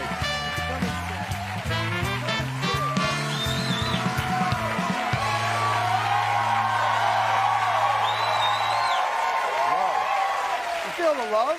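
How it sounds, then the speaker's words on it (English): A television studio audience cheers and applauds for a guest, a broad roar of claps and whoops running through, overlaid by loud band music at first and a host speaking over it. "What a crowd, what a crowd."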